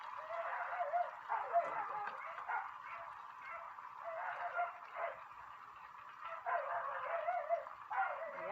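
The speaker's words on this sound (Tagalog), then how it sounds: "Dahil ang dami kong alagang aso." Several pet dogs bark and yip in the background of a home kitchen during cooking, muffled and somewhat distant, in bursts throughout with a faint voice briefly.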